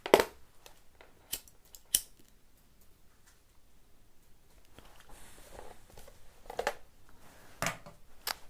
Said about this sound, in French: Hop, je coupe bien en biais.